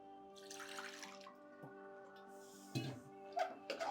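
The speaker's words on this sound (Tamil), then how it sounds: "தேவையான அளவுக்கு நம்ம தண்ணி ஊற்ற போகிறோம்" Water is poured into a pan of coconut kurma while it cooks. The splash and trickle are faint and come in short bursts over a low steady hum, with no talking.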